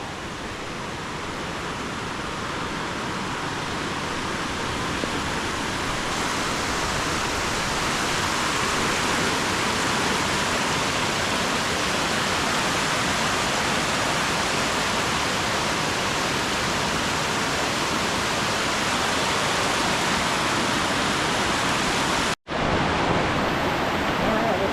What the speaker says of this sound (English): Seems like I read one time this waterfall was over 300 feet high.